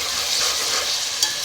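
Onion and ginger paste sizzles in a pan while being stirred, a steady nearby hiss with soft scraping and one brief clink near the end.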